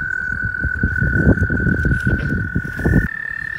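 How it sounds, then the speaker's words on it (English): Dense chorus of many frogs croaking together outdoors, a continuous layered rattle of overlapping calls, loud and close, with a steady high-pitched insect-like tone running through. "Oh, there's like hundreds of these frogs."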